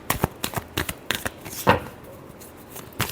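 Tarot cards being shuffled in a quick series of crisp riffling flicks and taps, close and fairly quiet, with no talking.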